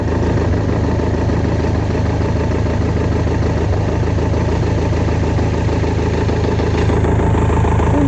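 A BMW K1100RS motorcycle engine idles steadily right after starting, close and loud with an even low rumble throughout and no talking.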